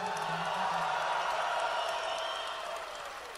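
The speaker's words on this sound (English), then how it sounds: "Everybody give Marlene a round of applause." Crowd applause and cheering at a political whistle-stop rally in Calgary, a steady wash of clapping and scattered whoops that holds fairly level for several seconds before easing slightly.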